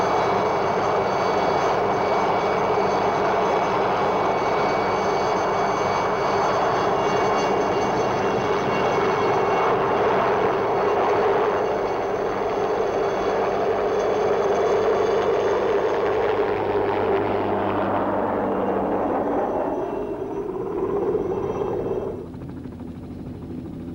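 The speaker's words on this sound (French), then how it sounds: "Alors Escoffier gagne le refuge du Hornli en hélico." A helicopter flies toward the Hörnli hut below the Matterhorn's north face with a loud, continuous rotor and engine roar. It holds steady for about twenty seconds, then drops away sharply near the end.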